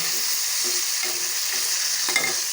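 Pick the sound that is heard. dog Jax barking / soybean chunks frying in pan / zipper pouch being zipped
soybean chunks frying in pan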